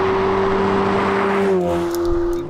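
A Ferrari 488 Pista Spider's turbocharged engine holds a loud, steady high-pitched rev before the tone falls away near the end, with no voices over it.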